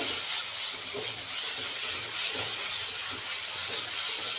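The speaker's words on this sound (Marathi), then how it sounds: "आल्याचा आणि लसणाचा वास जाईपर्यंत छान परतून घ्यायचा आहे" A spoonful of ginger, garlic and green chilli paste sautés in a pan, giving a steady, fairly loud sizzling hiss with slight swells and no voices.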